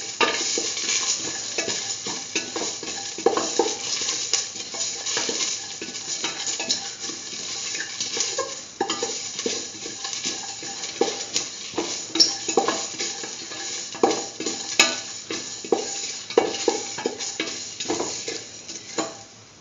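Red chili frying with garlic and ginger in a pan while being stirred, continuous sizzle under repeated scraping and clinking of a spoon against the pan, close and fairly loud throughout.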